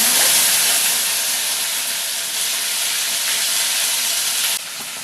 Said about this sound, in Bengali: আদাটা আর কাঁচা লঙ্কাটা পেস্ট করে রেখেছিলাম এবার আমি তেলের ওপরে দিয়ে দেবো